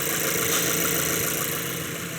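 A Mazda engine idles with a cylinder misfire, giving a steady, close, dense running drone with a faint uneven roughness and no talk over it.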